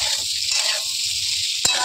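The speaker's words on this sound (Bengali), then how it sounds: "এবারে গ্যাসের ফ্লেমটা অন করে আমি আলুগুলো" Boiled potatoes frying in hot oil in a pan over a gas flame, giving a steady close sizzle with faint stirring scrapes and one brief sharp tap near the end.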